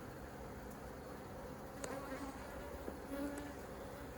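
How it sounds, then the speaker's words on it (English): Honey bees buzz steadily around an open hive frame during a summer colony split, a dense close drone with a few louder passes near the listener and no talking. "There's a lot of bees coming on."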